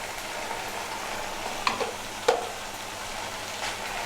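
A spoon stirs chickpeas with cumin powder in a frying pan while making Bengali chola bhuna. Two clear scraping clinks stand out over a soft, steady sizzle.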